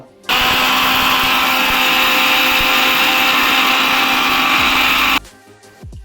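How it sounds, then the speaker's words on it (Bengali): An electric kitchen blender grinds fried five-spice (panch phoron) to powder, a loud steady whirring roar running about five seconds before cutting off abruptly. "এখন আমি এটাকে ব্লেন্ডারের সাহায্যে গুঁড়ো করে নেব।"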